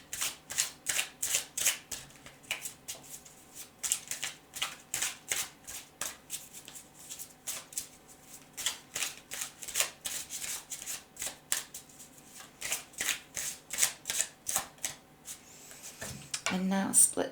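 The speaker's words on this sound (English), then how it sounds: "So I'm just going to shuffle this deck several times." A tarot card deck is shuffled over and over during a Celtic cross reading, giving a long run of close, crisp riffling bursts in a steady rhythm, with a person speaking at moments.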